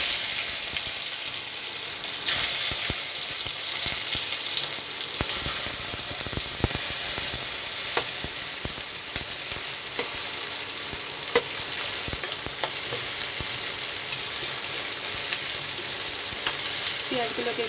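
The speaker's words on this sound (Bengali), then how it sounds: "এবার আমি পেঁয়াজ কুচিটা দিয়ে দেবো।" Chopped onion hisses in hot oil over tempered whole spices while cooking a dry potato dish, a steady dense sizzle lasting throughout with scattered scrapes and clinks of stirring, no talking.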